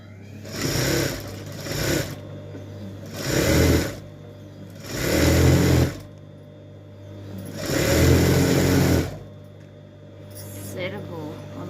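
An electric sewing machine stitches the border of a sari in four or five short, close whirring bursts separated by brief pauses, with quiet room sound between runs.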